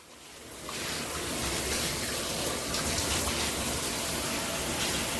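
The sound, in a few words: water spraying from handheld shower head in rainfall mode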